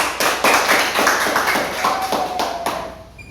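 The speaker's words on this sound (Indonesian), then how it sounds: "Kita tepuk tangan dulu, kita kasih semangat." Classroom group clapping in a school lesson setting, a burst of steady hand claps from several people that continues for a few seconds and fades slightly toward the end.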